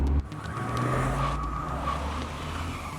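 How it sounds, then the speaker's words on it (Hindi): A car drives off and skids, its engine revving loudly and close with a sustained rough roar and a brief tire scrub, with no talking over it. "अबे ऐसा कोई गाड़ी चला।"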